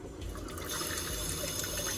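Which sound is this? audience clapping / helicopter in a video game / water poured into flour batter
water poured into flour batter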